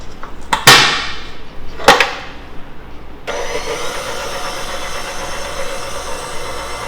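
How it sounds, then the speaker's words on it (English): A stand mixer kneads pan de sal dough at low speed: a couple of sharp clunks, then a steady whirring motor hum with a rattling edge that runs on evenly. "We're going to knead this with our mixer."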